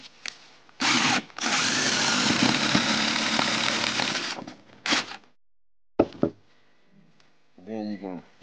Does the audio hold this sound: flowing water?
no